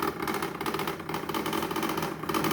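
The ice maker of a 2021 Samsung fridge gives off a continuous buzzing, whirring mechanical drone with a rapid rattling pulse, steady and fairly loud throughout.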